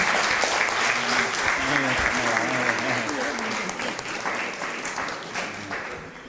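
An audience applauds steadily at a talk on UFOs and close encounters, dense clapping for about six seconds that slowly fades toward the end, with some voices and murmuring mixed underneath.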